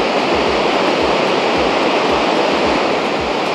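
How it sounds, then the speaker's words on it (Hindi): Rhine Falls in Switzerland roars as a loud, continuous wash of falling water heard from the top, broadband and steady with faint low thumps underneath. "हम टॉप पे पहुंच चुके हैं राइनफॉल के, यहाँ से ये पूरा वाटरफॉल नीचे की तरफ जाता है"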